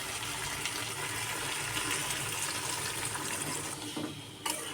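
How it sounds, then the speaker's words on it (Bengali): Coconut milk poured into a pan of prawn curry, a steady, fairly quiet liquid rush that runs continuously and tapers near the end, with no one talking. "এখন নারকেলের দুধটা দিয়ে দেবো।"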